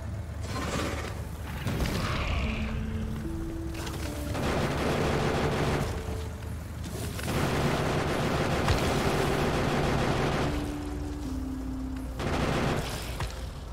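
Tank cannon shells fire in the video game Factorio in a rapid series of sharp blasts grouped into several bursts, mixed with mechanical clanks and short tonal game sounds, loud and without speech.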